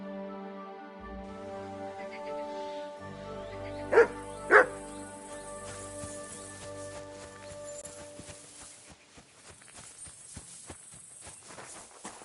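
A dog in the medieval role-playing game Kingdom Come gives two sharp, loud barks in quick succession over a soft musical backdrop, with faint footsteps or hoof clops following.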